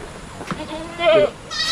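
Goats in a herd of about twenty improved-breed animals on a Philippine farm bleat in a couple of short, wavering calls, moderately close, with faint background noise.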